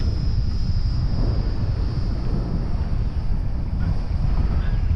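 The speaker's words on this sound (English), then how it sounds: "this wind is actually concerning me, because it takes a long time to turn" Steady, loud wind rumble buffeting the microphone outdoors while a WLToys XK A250 BF-109 RC plane flies, with a faint high motor whine running underneath.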